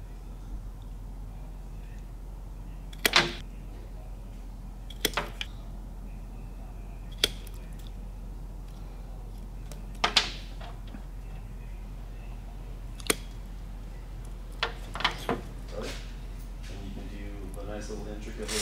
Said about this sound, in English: What I need to do is crimp these ends on the wires after I cut them to the